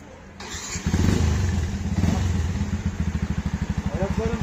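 A motorcycle engine catches and settles into a fast, steady, thumping idle, heard up close and fairly loud.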